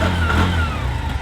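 A car engine hums steadily on the road toward Wilpattu National Park in Sri Lanka, a loud, close, continuous low drone with slight rises in pitch as it accelerates.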